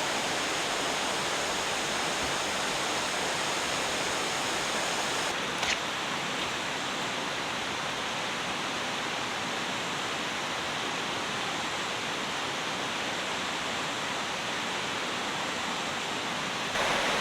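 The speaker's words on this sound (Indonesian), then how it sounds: "kalau ada waktu singgah ke air terjun Bokobili ini atau Lembah Karaeng ini" The Bokobili waterfall, also called Lembah Karaeng, rushes steadily beside a river camping spot, a loud continuous roar of falling water that fills the whole stretch without a break.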